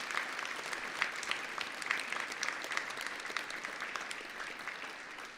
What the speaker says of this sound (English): a big round of applause for all the friends and family who have supported you as well